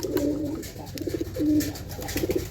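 Pigeons coo in a suffering summer heat, low throaty rolling calls repeating several times, close by, over a faint background murmur.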